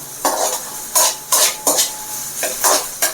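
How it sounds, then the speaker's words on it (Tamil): Onions being sautéed and stirred in a pan for masala egg rice, heard as a series of about seven scraping, clattering spoon-on-pan strokes in a steady rhythm over a faint sizzle, close and fairly loud. "வெங்காயத்தை நல்லா வதக்கிங்க"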